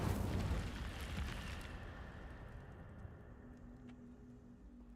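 Incendio fire spell cast in a Harry Potter wizard video game: a roaring burst of flame opens loud, then fades into a long, thinning crackle and hiss that tails off over about five seconds, with no talk.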